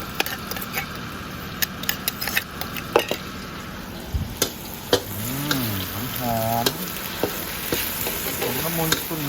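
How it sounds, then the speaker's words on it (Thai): Chili paste stir-fries for a spicy eel curry, a loud close sizzle with rapid repeated scraping and tapping of a spatula against the pan, and a brief voice-like sound partway through. "ไมผัดพริก"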